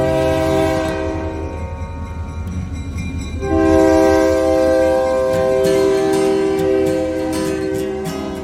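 Southern Pacific locomotive HLCX6341, in service since 1966, rumbling close by while its multi-tone horn blows a long chord, briefly easing then swelling louder and holding over the engine's steady roar.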